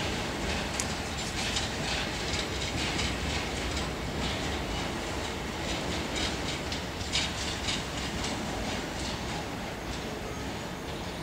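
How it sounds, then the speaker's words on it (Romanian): An electric locomotive hauls an InterRegio passenger train past on a Romanian line, a continuous rumbling roll with clicking wheel beats over the rails, heard from fairly close throughout. "Tren Interregio 1651 București Nord, Suceava Nord, tras de locomotivă electrică"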